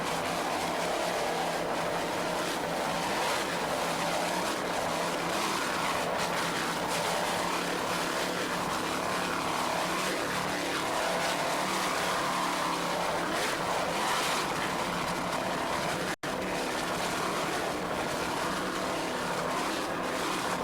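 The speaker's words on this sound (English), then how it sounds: "Frank Kerbeck doing a fine job throttling those Stotler racing engines." Offshore powerboat racing engines, Stotler racing engines at a 1993 US offshore race, roar loudly and continuously, a dense, unbroken drone that barely dips.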